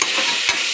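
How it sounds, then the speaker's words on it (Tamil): Ginger garlic paste for prawn biryani sizzles steadily in hot oil, a short, close, continuous frying hiss with a faint stir mark partway through. "நெக்ஸ்ட்டு இஞ்சி பூண்டு பேஸ்ட் போடலாம்."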